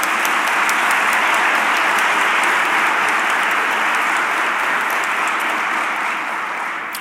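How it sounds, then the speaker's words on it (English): An audience at a college of the arts convocation applauds the college ambassadors with steady, full clapping for about seven seconds, tapering slightly at the end and heard alone without talk. "Please give a round of applause for them."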